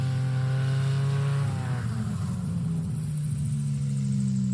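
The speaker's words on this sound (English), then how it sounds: "Love the sound of his aircraft. That engine just purrs in a way." A STOL aircraft's piston engine drones at a STOL practice event as it comes in low to land, a steady purring hum whose pitch shifts partway through, heard from fairly close with no talking.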